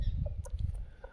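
Free-range desi hens cluck softly close by in a short burst of low, throaty notes with a few brief higher chirps over a rumbling outdoor background.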